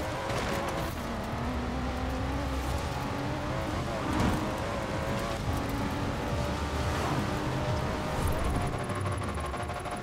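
Sustained engine drone from a small 3-liter car in Forza Horizon 4, loud and unbroken, the pitch rising and falling with revs, with brief tire squeal and passing-car swells.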